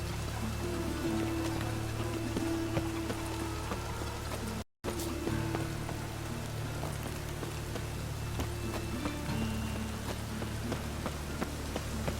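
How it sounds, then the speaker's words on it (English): Rain in The Witcher 3: Wild Hunt, a constant hiss of falling rain and patter on surfaces with a low ambient hum beneath, unbroken apart from one brief dropout. "Rain again."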